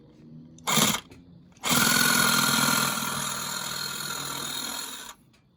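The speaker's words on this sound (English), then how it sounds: "Sawzall blade goes right through the pumpkin" Sawzall reciprocating saw blade cutting through a pumpkin, a brief buzzing burst followed by a longer, loud, steady rattling drone that slowly eases in intensity before cutting off.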